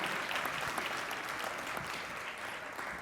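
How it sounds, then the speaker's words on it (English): An audience at an awards gala applauds steadily with dense, sustained clapping that fills the room at an even level throughout, with no voices standing out. "let's give them a collective round of applause"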